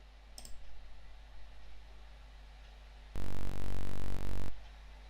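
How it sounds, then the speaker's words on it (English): A harsh buzzing, stepped digital synthesizer zipper-noise tone at 128 Hz cuts in abruptly over a low steady hum, holds for about a second and a half, then stops. "So here's some zipper noise."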